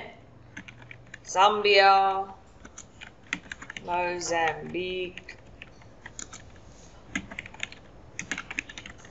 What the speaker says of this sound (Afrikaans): ek tik nou self die waardes in